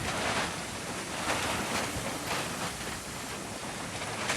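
Strong typhoon wind roars in steady broadband gusts, buffeting the microphone with a continuous rushing noise, loud and unbroken.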